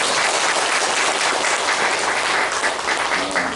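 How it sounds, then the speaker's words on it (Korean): A church congregation at a Sunday service claps in thanks for the praise band and choir. The applause is dense and steady, loud and close, and continues without a break for the whole stretch. "우리 드림밴드 찬양단과 우리 성가대에게 여러분 감사의 박수를 한번 보내겠습니다"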